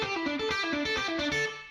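A short distorted electric guitar lick played at full speed, an upstroke then two downstrokes with a pull-off, cycling in a quick tight rhythm, loud and alone.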